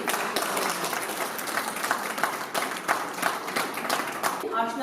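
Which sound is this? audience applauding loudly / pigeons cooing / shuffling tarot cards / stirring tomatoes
audience applauding loudly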